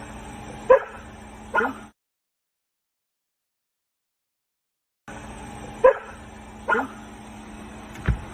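A dog barks outdoors at night, a few sharp separate barks in two short bursts split by a long silent gap, fairly close and alone.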